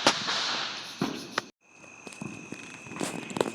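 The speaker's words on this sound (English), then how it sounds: "He's doing another big long strand of those firecrackers." A long strand of Fourth of July firecrackers crackles in rapid, loud bursts of sharp pops, breaks off briefly, then resumes with scattered nearby bangs. No one speaks.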